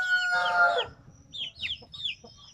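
Three-month-old chickens cluck and squawk nearby, starting with a drawn-out crow-like call followed by several short, high clucks over faint background noise.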